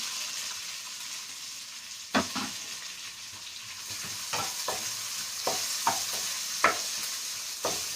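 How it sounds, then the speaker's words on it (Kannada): Onions fry in a pan for a cassava seasoning dish, a steady broadband sizzle running throughout while a spoon scrapes and stirs in a string of sharp, separate clacks. No talking. "ಈರುಳ್ಳಿ ಚೆನ್ನಾಗಿ ಫ್ರೈ ಆಗಬೇಕು."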